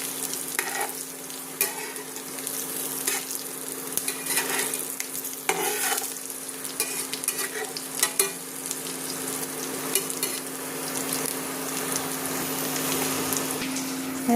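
Vadi frying in oil over a low gas flame, a steady close sizzle and bubbling that runs throughout with small crackles and occasional stirring scrapes.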